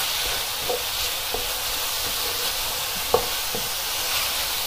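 Meat browns in an oiled pan with a steady, even sizzle and hiss close by, broken by a few faint scrapes and one sharper tap, with no voices.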